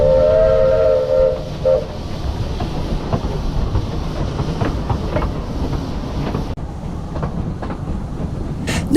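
Santa Teresa, a narrow gauge steam locomotive on the Brecon Mountain Railway in South Wales, travels with a brief whistle at the start, then a steady rumble of rolling carriages and rhythmic rail clatter.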